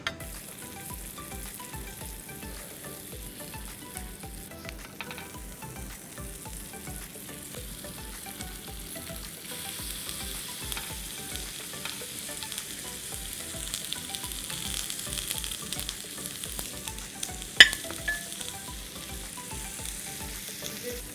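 Vegetable skewers sizzle on a hot skillet in a continuous crackling fry that grows slightly louder over time, with one sharp click late on.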